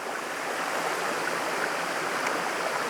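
Watui Falls pours as a steady, dense roar of rushing water, loud and close, with no breaks or other sounds over it.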